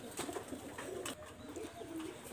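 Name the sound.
red-eyed pigeons cooing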